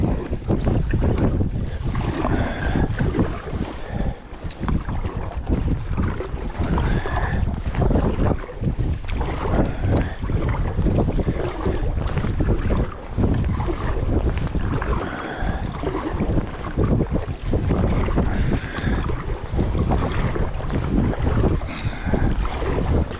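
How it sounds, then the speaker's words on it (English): Strong wind buffeting the microphone during an April solo canoe trip on a windy lake, a loud, continuous roaring gusty rush with water and paddling noise beneath it. "The wind's whipping here."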